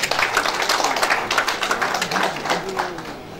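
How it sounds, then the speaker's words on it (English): A large seated audience at a formal memorial lecture and fellows induction ceremony claps in a dense, continuous burst of applause, with a faint voice briefly audible beneath the clapping. "Please, a round of applause."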